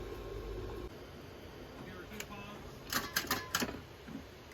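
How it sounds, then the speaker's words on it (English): Quick mechanical clicks from the fuel pump of a 1984 Toyota Tercel, a few in a rapid cluster, over a low background hum, close and fairly quiet. "I can hear the pump clicking."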